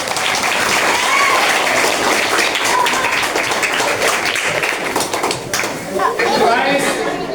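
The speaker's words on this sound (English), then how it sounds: "Clap your hand, everyone." Classroom audience clapping hands together in steady, dense applause that carries on throughout, fairly loud, with some voices and chatter mixed in near the end.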